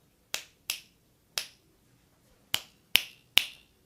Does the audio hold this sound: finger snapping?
yes